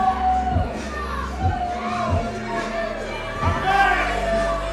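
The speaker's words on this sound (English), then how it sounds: "The crowd all over Suge D here, and absolutely livid are the CEW faithful here in Savannah." A wrestling crowd in Savannah roars and jeers in rising and falling waves of shouting and cheering, with a commentator talking over it.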